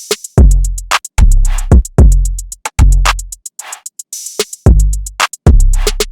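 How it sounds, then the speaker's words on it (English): A trap drum loop plays loud and upfront: booming 808 bass hits land in a syncopated pattern under crisp, rapid hi-hat ticks and snappy accents, repeating for several bars with no voices. "So altogether the drums sound like this."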